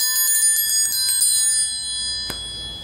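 A metal triangle rings out in a rapid run of bright strikes, then falls quiet before one last lone hit that shimmers briefly, close and loud, with no talking.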